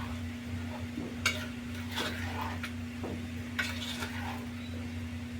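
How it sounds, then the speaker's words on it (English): Cook up, the traditional Guyanese New Year's Eve dish, stirred in a pot, with a few scraping clinks of the spoon against the pot over a steady low hum and faint sizzle. "Give it a good stir"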